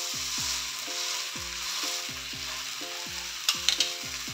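Rava oats dosa sizzling on an oiled pan, a steady close crackling hiss with a few sharp spatters near the end, under a looping melodic background tune and no speech.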